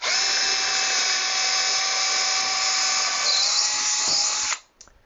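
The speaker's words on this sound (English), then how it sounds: "I'm going to pre-drill the holes." Power drill pre-drilling screw holes while assembling the swivel feet of a BroodMinder W3 hive scale, a loud, steady high whine held for about four and a half seconds before spinning down and stopping.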